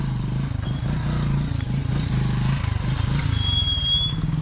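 A motorcycle engine idles and putters close by with a steady, slightly uneven low throb, ridden slowly in to park beside the house of siblings up in the mountains.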